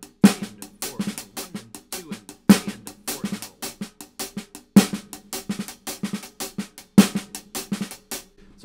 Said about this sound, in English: so all we're doing is just a quick diddle with the left hand